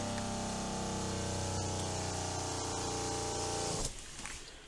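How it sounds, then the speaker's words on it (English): A small RV water pump on an Imagine 2600 travel trailer hums steadily while drawing antifreeze from a jug, a close continuous whine that cuts off near the end. "I'm going to go ahead and turn the pump on"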